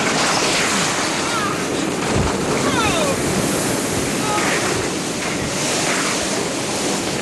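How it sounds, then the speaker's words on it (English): Typhoon Omar's wind and surf lash Guam in 1992: loud, continuous roaring wind noise and crashing surf fill the whole stretch without letup, with gusts buffeting the microphone. "1992, Typhoon Omar in Guam."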